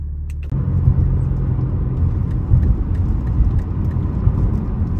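A 2021 BMW M3 Competition (G80) accelerating hard on the road, heard from inside as a loud, steady engine rumble and whir that swells suddenly after a quiet start and holds strong throughout, with no talking.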